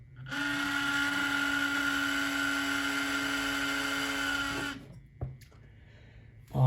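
A Spectrum SD45 model locomotive's small electric motor whines and hums steadily at a high pitch for several seconds on a test track, then cuts off, followed by a couple of faint clicks.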